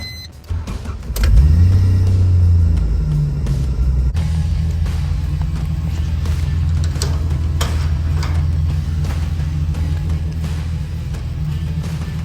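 A Toyota Hilux with a swapped engine starts up and settles into a steady, loud, deep running note that holds for several seconds close by, with a brief rise early on and no speech.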